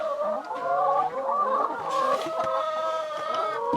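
Backyard chickens cluck loudly and close by in a short run of overlapping throaty calls and squawks, with no other sound.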